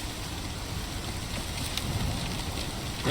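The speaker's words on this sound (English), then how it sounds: "It's actively raining, game!" Steady rainfall in the survival video game Icarus, a dense hiss of drops pattering on surfaces with a few brighter splashes, continuous and even, with no voices.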